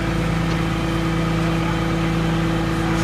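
A Geoprobe 3200 drilling rig's engine runs with the hydraulic PTO engaged, a steady, loud, unbroken drone with a constant humming tone close by and no talking.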